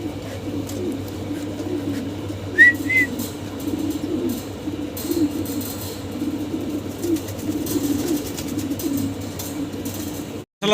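Mundian pigeons coo in a low, steady murmur that runs throughout, with a brief higher call near the start and a faint engine hum underneath.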